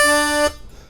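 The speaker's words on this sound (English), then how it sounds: "So it's a scoop on the 4 draw again to the 4 draw natural" A blues harmonica plays a single steady draw note on the 4 hole, a clear, reedy, close tone held for about half a second that then cuts off into a quiet, fading tail, with no voices.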